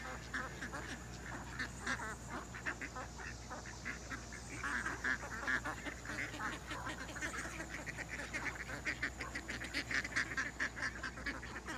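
A flock of ducks and geese quacks and honks continuously nearby, calls overlapping in a busy, rising chorus.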